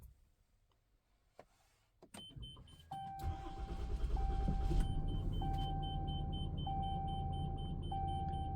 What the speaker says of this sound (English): The beeping you hear in the background is just the leveling jacks